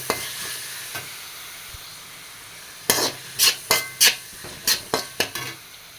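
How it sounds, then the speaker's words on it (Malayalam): Tomato and coriander leaves sautéing in a pan for mushroom dal: a soft steady sizzle, then a run of sharp metal spoon scrapes and knocks against the pan in quick succession. "തക്കാളി ഇതാ മല്ലിയില ഇട്ട് കൊടുത്തിട്ടുണ്ട് ഇതൊന്ന് ഒന്ന് നന്നായിട്ട് വഴറ്റിയെടുക്കണം"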